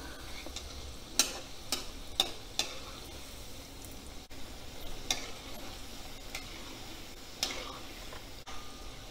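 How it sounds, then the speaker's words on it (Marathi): Taro leaf rolls (alu vadi) fry in oil with a steady soft sizzle, punctuated by occasional sharp ticks and clinks as they are turned over in the pan. "लाल रंगावर चांगले तळून घ्यायचे"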